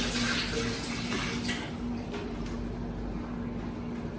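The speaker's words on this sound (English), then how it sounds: "Just wash my hands." Hands are washed under a running kitchen tap, a loud continuous rush of water that sounds close, gradually easing and thinning toward the end, with no speech.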